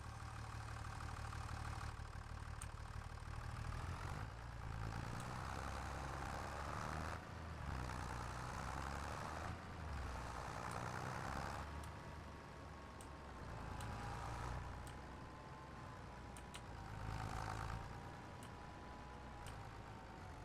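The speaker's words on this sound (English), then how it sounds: "I need to start the engine first." A vehicle engine in a video game idling and running steadily, a continuous low hum and rumble with slight rises in pitch, close and alone throughout.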